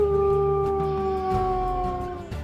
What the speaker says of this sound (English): Give her a howl. She likes it when I howl with her.